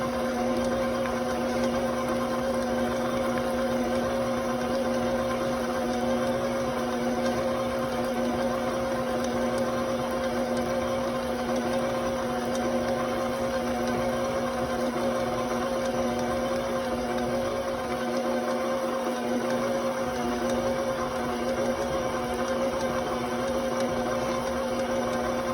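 An electric mixer beats cream cheese and butter together, giving a steady, loud whirring motor drone that runs unchanged throughout with no talking.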